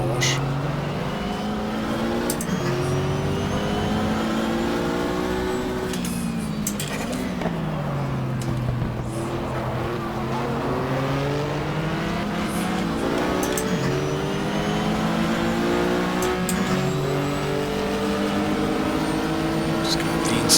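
Porsche race car engines scream in GTR2 at Daytona in the 24-hour race, pitch climbing and dropping through gear changes with other cars nearby, loud and sustained, while a voice talks over the top.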